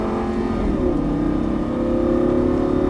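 A Lamborghini Gallardo engine on a racetrack revs and climbs through an upshift, a loud, close, steady roar that drops briefly and then builds again, with no talk.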